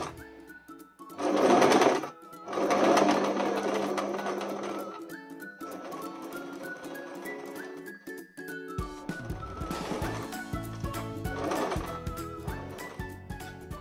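A sewing machine stitches a fabric appliqué, its motor whirring in loud continuous bursts that slow to a softer, steadier hum as the needle creeps along a curve.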